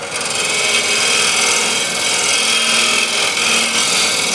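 A refiner scraping tool works over an 11-inch osage orange wood bowl, giving a continuous, loud, close rasping scrape with steady texture and no pauses.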